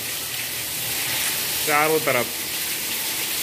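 Rainwater pours steadily from a house roof during heavy Delhi rain, a continuous broadband rush of falling water that runs the whole time, with a short spoken phrase briefly over it.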